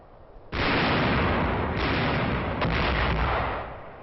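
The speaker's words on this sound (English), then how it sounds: "Firing on enemy barges in the Rhine before Duesseldorf." A sustained roar of artillery firing on enemy barges in the Rhine near Düsseldorf, from a Second World War newsreel, starting abruptly, loud and continuous with rumbling swells, then fading slightly near the end.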